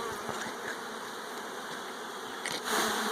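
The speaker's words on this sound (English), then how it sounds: "Shake the bees off so we can see." Steady, dense buzzing of many honey bees close by at a swarm trap, a continuous hum that swells slightly louder near the end.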